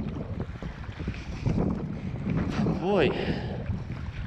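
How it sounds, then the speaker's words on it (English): Hard wind buffeting a small boat at sea in a 15-knot blow against the tide, a steady rushing roar across the microphone with water noise beneath, while a voice speaks briefly. "it's blowing like 15 knots straight against the tide"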